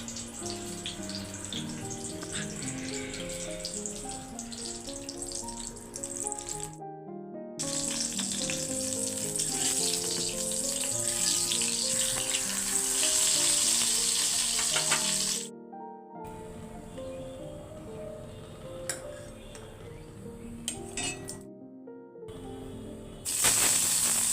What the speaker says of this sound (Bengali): এই যে ডিমগুলো ছিলে নিছি আলু ছিলে নিছি এখন কড়াই থেকে বেজে নেব